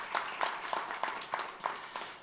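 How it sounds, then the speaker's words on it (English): An audience at a football league season launch claps in a steady rhythm, each beat a sharp burst about a third of a second apart. The clapping is faint and distant throughout. "Give them a round of applause."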